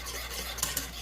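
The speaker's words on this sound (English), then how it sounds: "Still whisking it." Gravy whisked in a pan, steady scraping and stirring close by with faint sizzle underneath and a couple of sharper metallic taps from the whisk against the pan.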